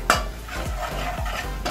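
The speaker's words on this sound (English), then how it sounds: "So after the onions, I put in the spice and then I mix and let that cook for a bit." A spoon scrapes and stirs spices into fried onions in a pot, with several short clanking strokes in a steady rhythm over a low background sizzle.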